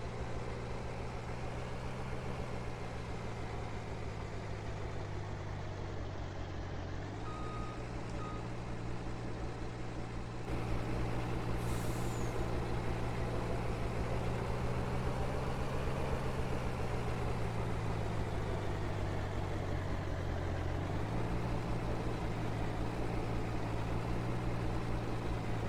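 A truck engine in Farming Simulator 19 runs steadily throughout, a low, constant rumble that steps up in level partway through and then eases back, with no voices.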